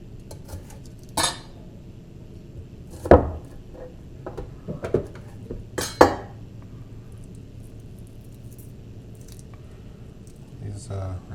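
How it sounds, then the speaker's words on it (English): A knife cuts and trims small fresh Tokyo onions from the garden on a cutting board in a few distinct sharp chops and knocks. Quiet handling noises fill the gaps, under a person talking. "Cut the ends off of these. We'll get them peeled and added."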